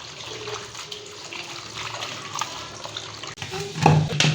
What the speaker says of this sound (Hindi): अब हम इनको अच्छी तरह से धो लेते हैं। अच्छी तरह से इसे मैं धो लूँगी।